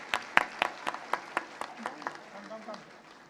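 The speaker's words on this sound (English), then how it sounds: "Guys, keep the applause going for Walker Penguins." Audience applause for a buildathon team at an AI social-good event, heard as a series of distinct sharp claps, fairly sparse and rhythmic, fading slightly toward the end with some voices underneath.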